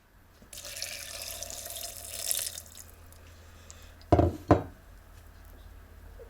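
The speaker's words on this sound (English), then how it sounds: "if we add 208 mils of water, that should pop back into a delicious meal for one" Water pours steadily for a couple of seconds into a dehydrated camping meal pouch, a soft rushing trickle, followed by two sharp close knocks or taps as the pouch is handled.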